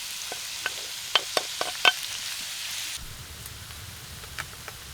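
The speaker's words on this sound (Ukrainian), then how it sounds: "Тим часом підсмажимо цибулю." Onion frying in lard or oil for a Ukrainian dish, a soft steady sizzle with several sharp crackles and spatters early on, then a lower, quieter frying hiss that continues alone.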